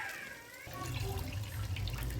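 Water pours steadily from a tap into a pot while Rayalaseema-style chitti mutyala rice kushka is being cooked, a continuous close rushing splash with no talking.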